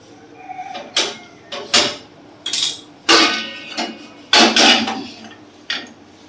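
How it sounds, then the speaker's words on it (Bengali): A metal wok set down on a kitchen stove, with a series of sharp clanks and scrapes of metal against the burner, about eight distinct knocks spread unevenly, close and fairly loud. "কড়াই বসিয়ে দিয়েছি"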